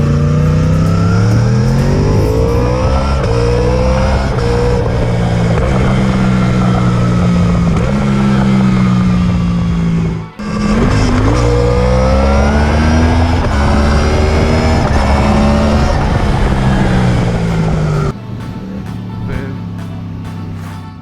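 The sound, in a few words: Yamaha R1 motorcycle exhaust revving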